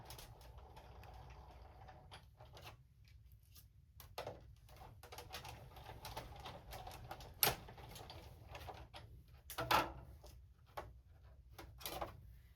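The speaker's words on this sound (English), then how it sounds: "So I'm going to just set this here and roll this through my die cut machine." A hand-cranked die cut machine rolls patterned card stock through a die: faint, close mechanical clicks and soft ratcheting rumbles with a couple of sharper knocks, quiet throughout and with no voices.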